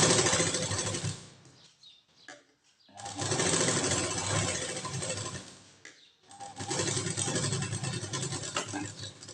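A sewing machine runs close by, stitching blouse lining fabric in two long rapid bursts of whirring stitches, separated by short pauses filled with faint handling noise.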